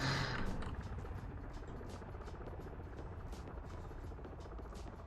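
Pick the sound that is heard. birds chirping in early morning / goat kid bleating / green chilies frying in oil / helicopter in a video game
helicopter in a video game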